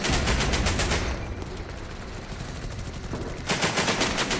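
Rapid automatic gunfire from a gun in the video game BattleBit Remastered, loud and close, with dense bursts at the start and end around a brief, quieter lull.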